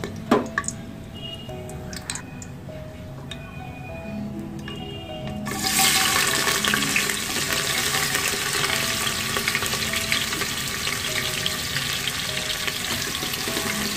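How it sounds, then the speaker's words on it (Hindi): Sliced onions hit hot oil already holding cinnamon, cloves and green cardamom for Hyderabadi mutton salan. A quiet, clinking stir gives way midway to a loud, steady sizzle that continues to the end. "साथ ही साथ हम इसमें स्लाइस अनियन ऐड कर देंगे।"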